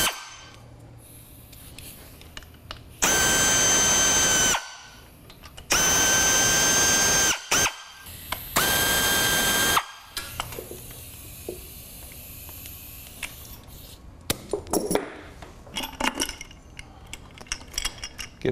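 A power drill removes the top cover screws on the transmission of a 2002 Harley Road King with a Baker DD6 installed: three loud whirring bursts, each about a second and a half, then faint clicks and handling noise.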